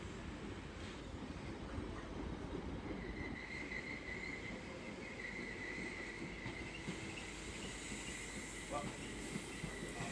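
A Merseyrail electric train pulls into a platform at Chester station, giving a steady broad rumble and hiss with faint high whines and squeals over about ten seconds, heard from the platform with no talk.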